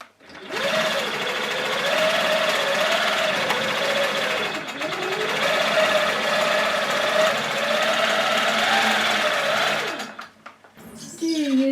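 Longarm quilting machine run manually, stitching the quilt top to wadding and backing: a steady, loud, close mechanical whir with a rapid needle chatter whose pitch rises and falls slightly, stopping near the end with a few small clicks.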